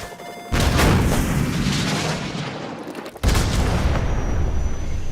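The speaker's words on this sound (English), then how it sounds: "So, grab another Stinger and fire again." Stinger missile launched at a helicopter in the Modern Warfare video game: a loud, sustained roaring blast that breaks off briefly, then a second heavy burst of rushing noise, up close and with no talk.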